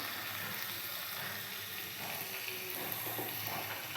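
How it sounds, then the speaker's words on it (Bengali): Onions with salt sautéing in oil, a dense continuous sizzle heard up close with light stirring scrapes near the end. "পেঁয়াজগুলো একটু ভালোভাবে কষানো হয়ে যায়।"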